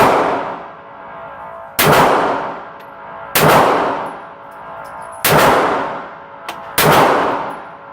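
Handgun fitted with an RMR reflex sight fires at a target, four loud, sharp shots spaced roughly one and a half seconds apart, each trailing off in a long ringing echo.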